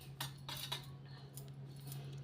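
A spoon stirring yogurt chutney in a bowl, giving a few faint scraping clinks against the dish over a low steady hum, with no speech.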